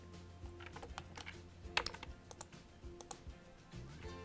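Soft clicks of typing on a computer keyboard come in short irregular bursts, close and fairly quiet over a low background hum, with no talking.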